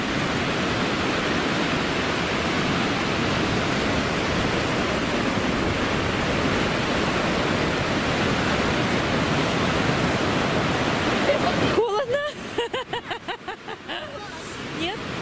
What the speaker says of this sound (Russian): Смотри, как красиво, как тут волны подходят,